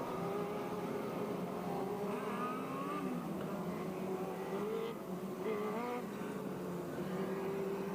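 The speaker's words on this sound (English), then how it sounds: "stands on the loud pedal, and away we go again" Several race cars at a Labor Day shootout heat accelerate on a green flag restart. Their engines rise and fall together in a constant distant roar, with overlapping revving tones and no talk.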